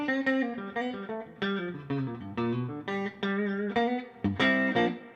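Electric guitar with Fishman P90 pickups played through a clean tone, a short melodic run of distinct plucked notes with clear ringing harmonics, close and alone without talk.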